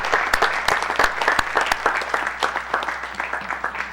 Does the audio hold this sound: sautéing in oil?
no